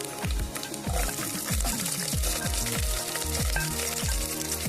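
Shallots frying in a pan with browning grated coconut, a steady bubbling sizzle with repeated soft scraping strokes, close and moderately loud.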